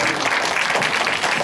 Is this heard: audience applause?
yes